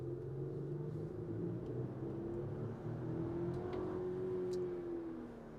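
A 2024 Lexus GX550 SUV engine revs hard under acceleration, a steady rising rumble and whir from inside the cabin, continuous and fairly loud with no talking.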